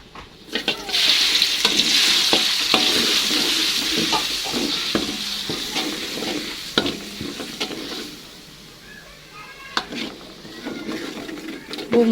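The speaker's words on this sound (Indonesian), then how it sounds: "Setelah itu saya langsung mau tumis bumbunya teman-teman." Bumbu spice paste stir-fries in a pan for Indonesian potato and beef liver sambal. A steady close sizzle carries through, broken by frequent sharp scrapes and clinks of a spatula stirring.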